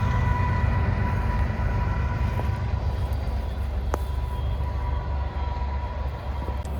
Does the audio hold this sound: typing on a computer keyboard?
no